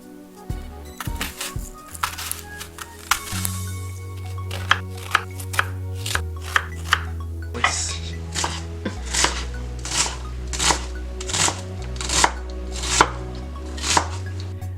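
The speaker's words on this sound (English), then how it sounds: "we're going to give it about 3 horizontal knife cuts, and then we're going to go vertical" A knife dices an onion on a cutting board in a run of crisp, close chops, irregular at first and then a steady, evenly spaced rhythm of about a dozen strokes.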